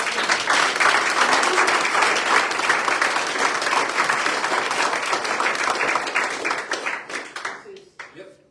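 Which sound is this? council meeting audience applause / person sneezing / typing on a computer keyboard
council meeting audience applause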